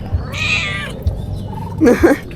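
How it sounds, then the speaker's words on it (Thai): A cat meows twice, first a drawn-out high call and then a shorter pair of mews, close and loud over low background rumble with a few soft bumps. "แมวบอกว่า กินรอแมวด้วยนะ"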